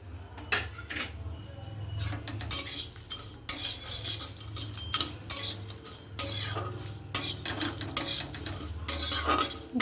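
Spices in a hot kadai are stirred with a metal spoon, making repeated close scraping and clanking strokes against the pan over a faint sizzle.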